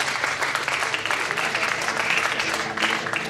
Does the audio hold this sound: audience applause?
yes